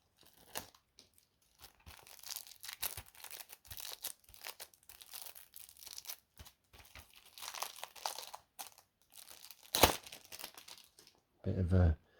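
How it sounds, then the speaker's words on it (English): Plastic wrapping on a Madison VR Cursed Edition game box crinkles and tears in close, irregular bursts over several seconds, ending with a louder rustle. "Bit of ASMR for you there. Nice crinkles."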